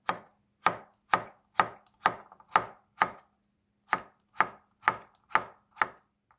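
A knife slices a halved cucumber diagonally on a cutting board, about a dozen crisp even strokes with a short pause midway, close and fairly quiet, no talking.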